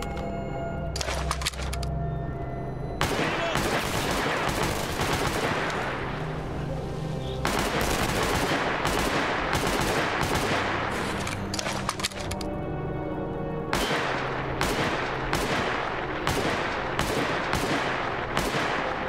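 Gunfire from the shooter game Stalker Clear Sky: loud, sustained automatic bursts broken by short gaps and several separate volleys, with a few single shots between them.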